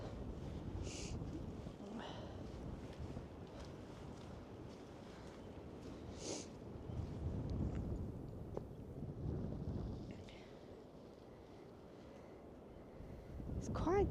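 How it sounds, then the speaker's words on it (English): Blustery wind gusts across the microphone on a beach, a steady broadband rush with swells and buffeting that rise and fall throughout, loud and close, with no talking. "it does look calm, but it's really blustery"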